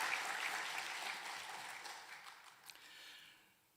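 A church congregation applauds during a Sunday worship service marking the church's 118th anniversary, a broad wash of clapping that starts fairly strong and gradually thins and fades toward the end.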